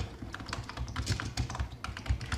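Rapid typing on a computer keyboard, a steady run of close, crisp key clicks with uneven rhythm, heard alone without talk.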